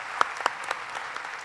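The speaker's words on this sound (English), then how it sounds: "give them a great round of applause" A brief round of audience applause for conference panelists, fairly soft and diffuse, with a couple of sharper individual claps standing out near the start.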